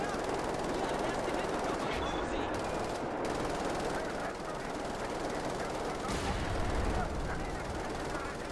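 Sustained machine gun fire in Wolfenstein: The New Order roars continuously as a dense, loud rattle with no clear breaks, with small dips and bursts layered on top.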